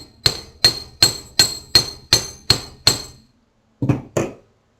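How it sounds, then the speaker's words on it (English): A small hammer taps wire earrings on a hard block, eight sharp evenly spaced metallic strikes followed by a pause and two more, close and clear with no talking. "you can sand everything and hammer it a little bit more"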